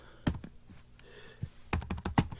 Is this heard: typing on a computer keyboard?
yes